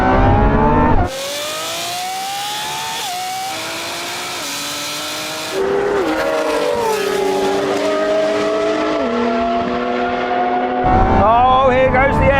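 A Koenigsegg Jesko, a Lamborghini Revuelto and a 1,000hp BMW M3 accelerate hard side by side in a drag race, loud engines climbing through stepped gear changes after a sudden launch, with a fresh surge of revs near the end.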